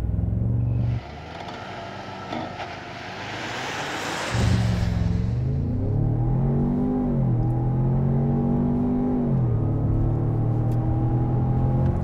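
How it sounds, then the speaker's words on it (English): A 2021 Ford Bronco Sport Badlands accelerates hard from a launch, its loud engine note climbing and dropping through several gear shifts over a constant road rumble, with no speech. "'21 Ford Bronco Sport Badlands without launch control brake boost."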